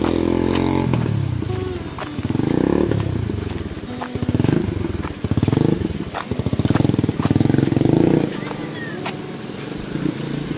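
A stuck motorcycle engine revs hard in repeated loud bursts, sputtering and straining between pushes, with voices talking over it.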